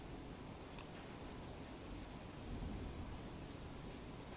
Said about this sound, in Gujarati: ગાજવીજ સાથે વરસાદ છે તે શરૂ થયો હતો।